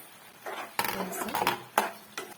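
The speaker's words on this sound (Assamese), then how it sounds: "5 মিনিট হৈ গ'ল, মই ঢাকোন দাঙিছোঁ।" The lid comes off a pot of chicken white korma with a close metallic clatter and a few sharp clinks of metal on metal.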